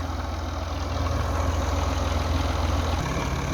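An old Massey Ferguson 240 tractor engine idles steadily at a low, even rumble, moderately close, with no voices.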